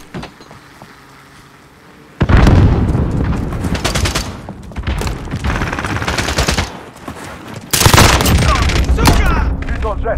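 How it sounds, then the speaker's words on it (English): Gunfire and explosive blasts from a Call of Duty Modern Warfare team deathmatch, where a grenade is thrown: loud, dense bursts start abruptly after a quiet stretch, then a second heavy burst near the end, with shouted game callouts mixed in. "Throwing grenade!"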